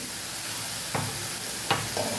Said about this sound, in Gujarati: સરસ મસાલાને સાતળી લઈશું